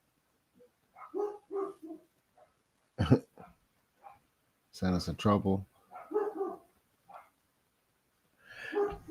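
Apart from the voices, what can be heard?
dogs barking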